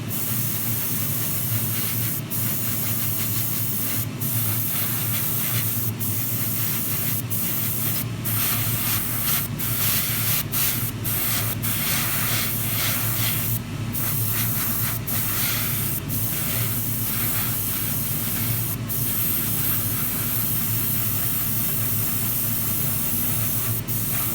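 Spray paint misted in light coats onto engine bay parts for a 1:24 Tamiya Ferrari LaFerrari model kit, a continuous close hiss lasting the whole stretch, broken by short sharp bursts as the nozzle is pressed.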